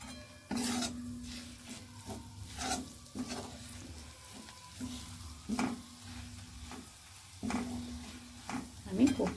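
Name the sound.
oil sizzling in a pan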